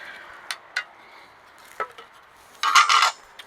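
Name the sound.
mixing body filler for trailer bodywork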